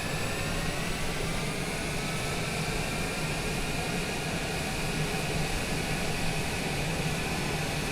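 An aircraft backtracks along the runway at Owen Roberts airport on Grand Cayman, a steady broad engine roar and whine heard from inside, constant and unbroken for the whole stretch.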